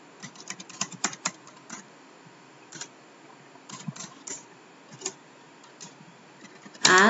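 An SQL query goes in on a computer keyboard as scattered, irregular key clicks, close and fairly quiet, with short bursts and pauses between them.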